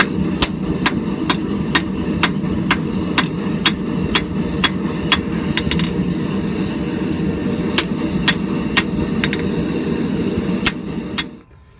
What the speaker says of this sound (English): Just gentle blows up and down the whole length of the billet